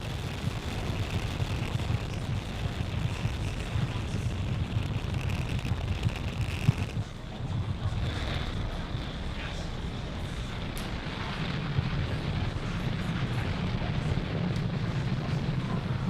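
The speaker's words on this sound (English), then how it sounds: "Falcon 9 has successfully lifted off from Space Launch Complex 40, carrying our 53 Starlink satellites" SpaceX Falcon 9 lifting off from Space Launch Complex 40 carrying 53 Starlink satellites, a continuous distant rumbling roar with wind-like buffeting that holds steady at moderate loudness throughout.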